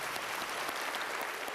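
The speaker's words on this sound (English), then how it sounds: "Let's please all stand and give her a round of applause." Students and staff gathered in a school gymnasium applaud a retiring school bus driver with a standing ovation. The clapping is continuous and even, heard from a distance as a fairly quiet wash of sound.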